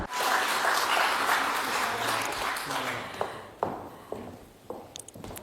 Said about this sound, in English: A short applause for this photo to become even better.